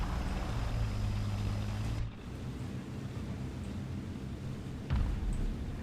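A vehicle engine in a video game set in Russia drones steadily at low pitch, steady and moderately distant, with a brief dip partway through and a faint thump near the end.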